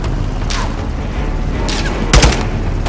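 Rapid bursts of gunfire in Call of Duty Modern Warfare 2, a few separate volleys with one sharp, heavy blast near the end, close and loud over a rumbling background.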